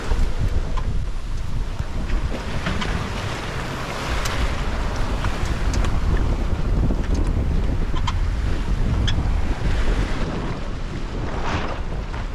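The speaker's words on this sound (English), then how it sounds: "We proceeded following the waves straight downwind." Ocean waves and strong wind roar steadily around a sailboat running straight downwind in rolling seas off Iceland's northeast coast near Raufarhöfn, with heavy wind buffeting on the microphone and washing surf throughout, no voices.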